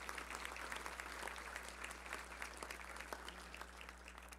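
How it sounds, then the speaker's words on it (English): A luncheon audience applauds its sponsors, a spread of many hands clapping at a very low level over a steady low electrical hum, continuous for a few seconds. "let's give all of them a round of applause"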